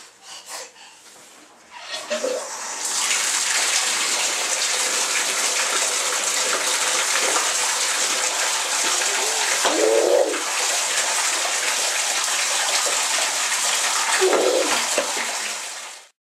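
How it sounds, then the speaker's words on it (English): Tap water gushing into a bathtub, a steady loud rush that starts after a brief pause and continues to the end, with a few soft voice sounds and breaths over it. "Can we turn the bath on for you?"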